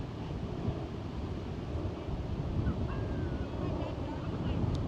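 Wind buffets the microphone in a steady low rumble at Lake Michigan in Chicago, with faint distant honks or calls barely audible above it.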